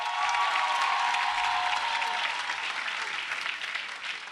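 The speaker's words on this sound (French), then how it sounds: "les applaudissements dus à ces jeunes gens sont, mais franchement, largement insuffisants" Dense, steady applause from a live television show audience filling the whole stretch, loud and continuous with a faint sustained tone early on.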